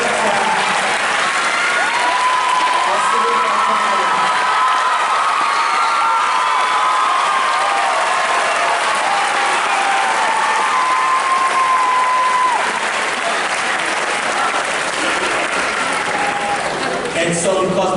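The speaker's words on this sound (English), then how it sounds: "let's please give them a warm round of applause" A crowd at an eighth-grade moving-up ceremony at Peekskill Middle School applauds its teachers, steady loud clapping mixed with cheers, whoops and children shouting, sustained throughout.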